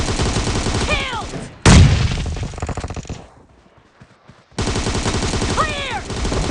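Rapid bursts of gunfire from a shooter video game, loud and dense, breaking off into a quieter gap before the shooting resumes.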